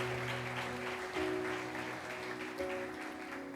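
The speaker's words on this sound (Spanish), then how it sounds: "Dale un fuerte aplauso al Señor." Church congregation clapping during a sermon, a moderate, diffuse applause under sustained organ or keyboard chords, heard at a distance in a large room.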